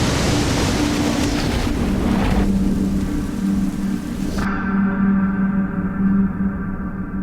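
Roaring surf and crashing waves fill the clip with a broad, steady wash of noise, loud and close, with a low rumble underneath.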